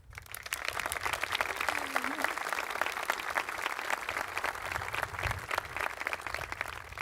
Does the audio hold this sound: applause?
yes